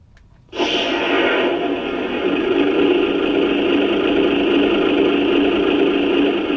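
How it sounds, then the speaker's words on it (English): Model train engine with a smoke unit switched on, producing a steady, loud hiss and hum that starts abruptly after a brief quiet moment and runs unchanged to the end. "I'm going to power it up and we'll see if that smoke unit sounds any better"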